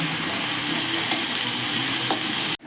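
Garlic frying in oil in a wok for a jute-leaf curry, a steady loud sizzle throughout with a couple of faint clicks, ending in an abrupt cut, no voices.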